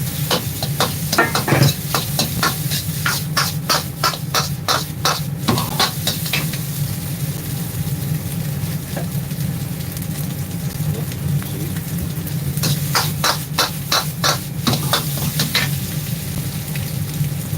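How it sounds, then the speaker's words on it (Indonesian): Goat fried rice being stir-fried in a pan during a restaurant à la carte service, a steady loud sizzle with bursts of clattering scrapes as the wok is tossed, continuous throughout with no talking. "goyang dulu nasi goreng kambingnya"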